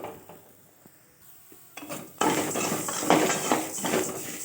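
Curry leaves are stirred while roasting in oil in a pan for idli podi. A few light metallic taps come first, then a loud hissing sizzle sets in, with scraping stirs layered over it.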